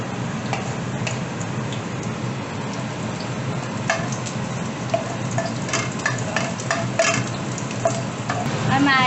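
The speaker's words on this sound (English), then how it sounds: "The oil is hot. Now I'm going to add the chilies." Chilies dropped into hot oil in a pan fry with a steady, dense sizzle and crackle for the full stretch, with occasional sharper pops and spatters rising near the end.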